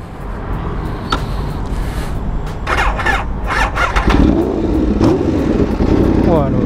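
Aprilia RSV4 RF motorcycle with a V4 engine, running and revving sharply several times, loud and close, with a squealing edge and a rising engine note near the end.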